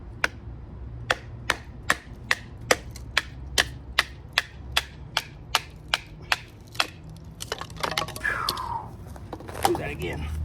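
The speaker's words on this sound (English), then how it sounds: "Let's do a little bit of light batoning." Rough Ryder RR2080 big folding knife batoned through wood, about fifteen sharp, evenly spaced knocks close by, followed by rustling and handling noise with a voice speaking softly in the background.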